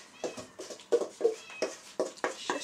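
A cat meows repeatedly, about eight short cries in a loose rhythm, close by and fairly loud, with no talking.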